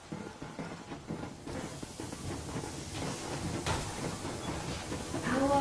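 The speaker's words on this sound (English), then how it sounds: "Yermak, full steam ahead." A steam locomotive moves in Metro Exodus, its hissing and rumbling chug building gradually in loudness, with a brief whistle-like tone near the end.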